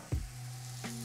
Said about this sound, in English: Got a hot griddle. If you don't got a cast iron griddle like this, it's okay.